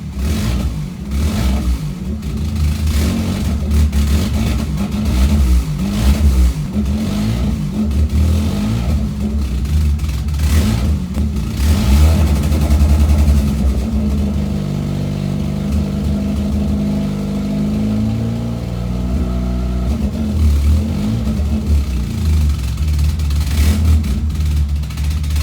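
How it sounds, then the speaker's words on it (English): Toyota 4EFE engine fitted with 4EFTE fuel rail, injectors and new ignition leads, idling steadily and then revving up and settling, loud and close with a continuous low rumble throughout and no talk. "I've got it running with this new ignition leads and the new fuel rail and the new injectors."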